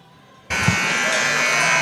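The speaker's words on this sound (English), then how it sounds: "that's the buzzer with 18 seconds left in halftime" A loud, sustained electronic buzzer at a high school basketball game in a gym, starting abruptly and holding steady with a harsh, raspy tone, with faint crowd noise beneath.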